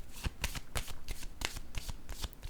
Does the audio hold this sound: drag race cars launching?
no